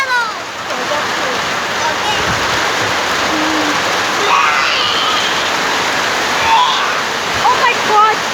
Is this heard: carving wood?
no